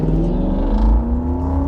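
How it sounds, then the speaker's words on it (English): A VW Golf Syncro with a 2.9 engine idles just above 800 rpm, a steady low, rumbling drone with a smooth hum and no revving, close by and alone without speech. "I'm sat here idling just a shade above 800 revs"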